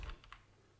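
Three quick, faint keystrokes tapped on a computer keyboard, then quiet room tone.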